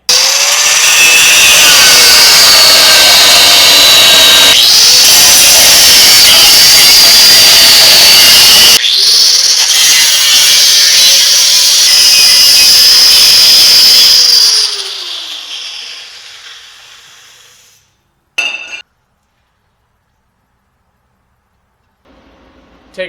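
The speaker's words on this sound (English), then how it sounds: "You have to cut that out and make this flat for the coil mounts." Power tool cutting a notch out of a bulge in a GMT400 Chevy truck frame, a loud continuous whining grind for about fifteen seconds that winds down, then silence with a brief clank.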